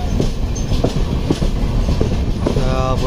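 A Konkan Railway passenger train pulls out of Khed station in light rain, its rolling rumble and rhythmic wheel clicks steady and close throughout, with a brief squeal near the end.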